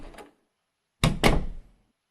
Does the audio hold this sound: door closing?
yes